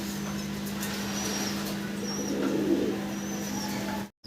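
A pair of white Kagoji pigeons coos softly and steadily at a pigeon seller's, under a constant low electrical hum, with no talk.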